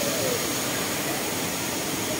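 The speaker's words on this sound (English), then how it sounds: "There, there's another waterfall." Steady broadband rushing roar of Cambugahay Falls fills the clip without a break, loud and constant with no distinct events.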